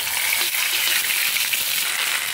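Ground mustard paste fries in hot oil with fenugreek, giving off a dense, steady sizzle close by and loud throughout.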